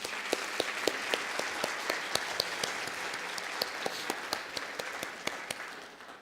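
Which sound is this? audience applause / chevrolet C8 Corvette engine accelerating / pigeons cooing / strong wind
audience applause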